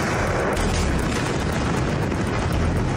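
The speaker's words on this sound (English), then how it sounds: "this was the moment a huge explosion rocked a petrochemical plant in Shandong province" A huge gas-leak explosion at a petrochemical plant in Shandong province, China, sounds like a loud, continuous, deep roaring rumble that fills the whole span without a break.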